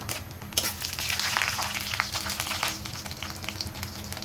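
Three dried chilies, cumin and cardamom crackle in hot oil, a close, continuous sizzle dotted with sharp pops and stirring scrapes throughout.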